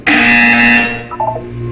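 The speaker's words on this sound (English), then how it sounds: "You will hear a buzzer" A loud electronic buzzer from the video game Portal 2 sounds one steady, harsh tone for under a second, then fades into a short lower warble.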